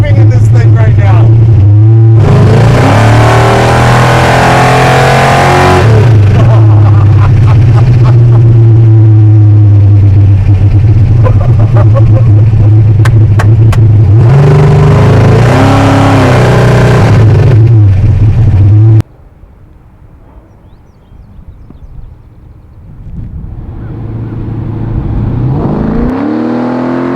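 A 1,000 hp all-motor Chevy farm truck engine revs hard and loud from inside the cab, rising and falling in long pulls between gear changes, then cuts to a quieter idle before building again, with people talking over it.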